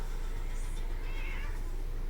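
A cat meows briefly, once or twice, against a steady hiss of background noise outdoors on a very hot evening.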